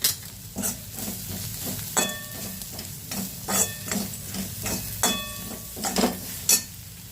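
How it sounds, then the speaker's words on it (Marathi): Turmeric being stirred with a spoon in a hot pan for potato bhaji, repeated rhythmic scrapes and taps against the pan over a continuous gentle sizzle, close and clear. "हळद घालणार आहे आणि 2 मिनिटं चमच्याने हलवून घेणार आहे"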